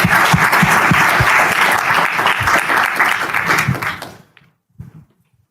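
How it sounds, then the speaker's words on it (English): An audience at a professional athletes' investment event breaks into loud, dense applause for about four seconds, then it cuts off abruptly, leaving near silence broken by a brief soft thump. "You guys, give me a round of applause."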